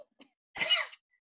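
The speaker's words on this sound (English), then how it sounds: "Not that you want to sit there and cough," A single short, dry cough sounds close and clear in a quiet room, preceded by a faint breathy catch.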